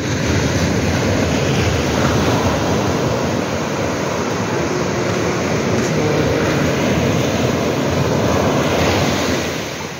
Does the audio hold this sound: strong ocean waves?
yes